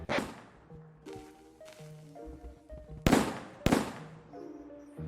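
Fireworks burst in a backrooms-style escape video game, several sharp cracks and pops with whooshing trails over a tonal musical background, two loud bangs near the end.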